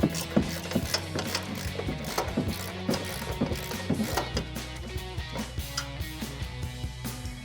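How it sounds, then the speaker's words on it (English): A 15mm ratcheting wrench removes a nut from the stock suspension of a 2009-2014 Ford F-150: steady, close, rapid ratchet clicking runs throughout, with a metallic, mechanical rattle. "Again, with your 15mm ratcheting wrench,"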